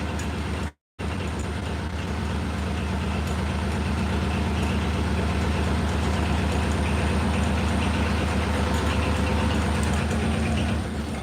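Four-wheeler ATV engine idling steadily up close, a continuous low rumble with a brief dropout near the start, no talking over it.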